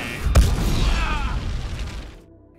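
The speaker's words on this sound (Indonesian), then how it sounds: "tempat itu pun meledak bersama Dre" A film-scene explosion erupts with a sharp, heavy boom near the start, then a loud rumbling roar that sustains and gradually fades into quiet.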